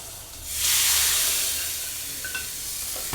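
Hot ghee tempering hits tomato dal with a sudden loud hissing sizzle that swells and then settles into a steady, softer fizz.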